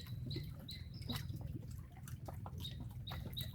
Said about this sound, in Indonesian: Suara burung, suara air, angin.